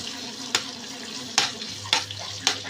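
Onion, garlic and peppers fry in oil in a pan, with a steady sizzle broken by four sharp clacks of the stirring utensil at uneven intervals.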